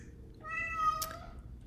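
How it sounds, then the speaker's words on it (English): A domestic cat gives a single clear, drawn-out meow nearby, rising and then falling, over quiet room noise. "It's my cat again."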